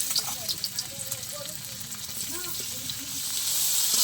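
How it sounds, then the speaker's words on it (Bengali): Okra fries in hot mustard oil in a wok, a close hissing sizzle that grows louder toward the end, with faint voice-like sounds underneath. "এবার আমি ভেন্ডিগুলো তেলে দিয়ে দেবো। তেল গরম হয়ে গেছে।"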